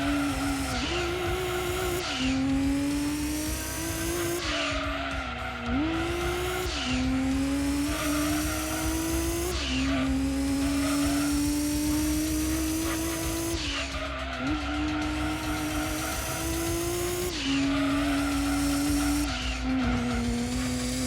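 Race cars in Gran Turismo 2 on the final lap, engines droning loud and steady throughout with repeated tire squeals and skids rising and falling through the corners.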